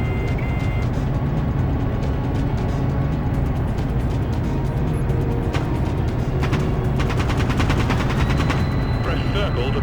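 Rapid gunfire crackles continuously over a low rumbling engine drone in the game Dropship: United Peace Force, with bursts of automatic shots and heavier cannon blasts, loud and dense throughout.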